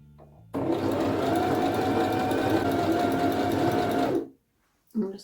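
A loud, steady whir of a sewing machine stitching, then reverse stitching, along an elastic edge on a dress, running for about four seconds before stopping abruptly, followed by a brief restart.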